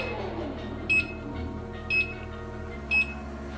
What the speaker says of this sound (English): you will hear several beeps. When the beeps stop, it disengages the motor